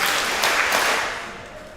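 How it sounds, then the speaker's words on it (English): A synagogue congregation at a Rosh Hashanah service breaks into a dense burst of clapping that fills the room and then gradually thins and fades. "If you can hear me, clap 3 times."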